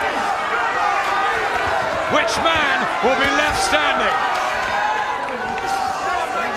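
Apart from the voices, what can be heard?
boxing crowd cheering on their feet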